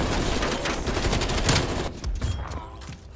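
The XM4 assault rifle fires in Call of Duty: Black Ops Cold War as a dense, rapid burst of automatic shots for about two seconds, loud and close. The fire then cuts off into quieter game ambience.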